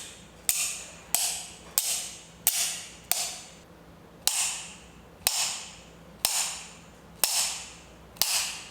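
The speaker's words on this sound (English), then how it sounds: "So I'm just gonna tap it a few times to see if the blade comes out." Needle-nose pliers tapping against a miter shear blade, about a dozen sharp metallic clicks at a steady, slightly uneven pace, each with a short ringing decay, close and loud with no talking.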